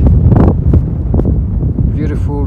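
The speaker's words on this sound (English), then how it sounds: "Pretty windy here." Strong wind buffets the microphone at a high point on a mountain trek in the Vanoise, a low rumbling gusty roar that runs throughout while someone talks over it.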